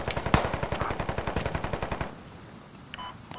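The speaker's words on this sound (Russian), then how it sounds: "Это наш стреляет." Sustained automatic rifle fire from a nearby teammate in the military shooter game Squad, a rapid even burst of about twenty shots lasting two seconds, loud and close, then fading to ambient battlefield noise.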